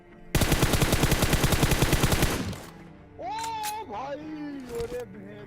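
A rapid burst of automatic gunfire sprays in the PUBG video game on the Erangel map, a loud sustained rattle of about two seconds. A voice then talks excitedly over the quieter game sounds.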